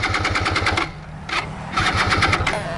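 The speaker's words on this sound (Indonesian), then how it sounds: "Gimana mau pulang kalau motor kamu nggak mau hidup kayak gini?" Motorcycle engine failing to start: rapid rhythmic cranking chatter in three bursts, with brief pauses between attempts, close and loud, no talking during the tries.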